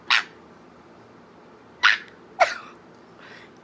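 A voice imitating an annoying small dog, a Pomeranian, with sharp yappy barks: one, a pause, then a quick pair and a fainter yip, close and loud.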